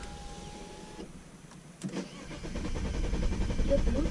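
A car's electric window whirs open for about a second, then an engine cranks and catches, settling into a rising, steady rumble nearby.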